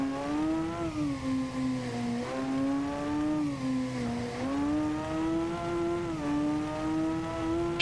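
Honda Hornet motorcycle engine in the racing game Ride 2 rising and falling as the throttle is gently reopened out of a corner, a steady close drone with smooth pitch swells and no speech.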